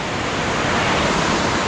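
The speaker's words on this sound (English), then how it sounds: "you got the cold water, mountain water running by" Cold mountain creek water rushing steadily beside the Seven Bridges Trail in Colorado Springs, a loud, continuous broadband roar filling the whole moment with no voices.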